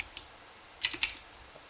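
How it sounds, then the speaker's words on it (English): A few quick keystrokes on a computer keyboard, two small clustered bursts of taps over a faint, quiet background, with no talking. "We'll just type in"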